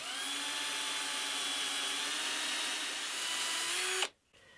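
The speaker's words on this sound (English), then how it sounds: "I dread perspex because it's so easy for the drill to bite and just pull at the work." A steady, high-pitched whine of a power drill running continuously through perspex, close and loud, then stopping abruptly into near silence.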